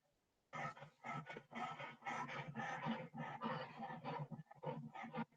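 An old dog with pharyngeal nerve problems breathes in harsh, raspy bursts that almost sound like roars. The breaths come in quick rhythmic pulses, close to the microphone, with no talking.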